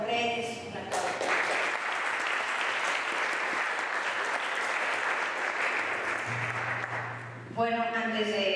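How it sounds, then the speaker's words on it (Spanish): An indoor audience at a talk on El Santo, press and cinema applauds in a steady burst of clapping lasting several seconds, with speech just before and after it. "respetado maestro Genaro Saúl Reyes, un aplauso."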